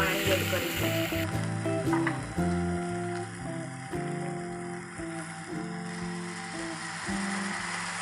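Water poured into a hot pan of turmeric and coriander-cumin spices for Gujarati potato curry sets off a loud, steady sizzle that fades gently, with faint background music and no talking.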